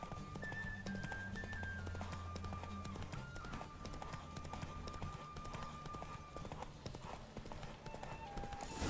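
Horse hooves clip-clop steadily in a gallop in The Witcher 3, a continuous rhythmic pounding under game music and ambient sound throughout.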